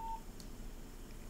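A Nokia 5110 mobile phone switching off gives a single short, clean electronic beep at the very start, then near silence.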